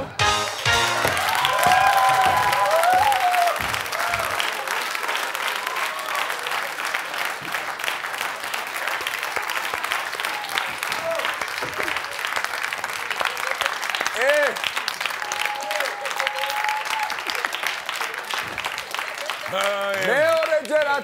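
Sustained audience applause with cheering fills the room for about twenty seconds at a Georgian comedy contest show, loud and dense throughout, with a few voices calling out over the clapping.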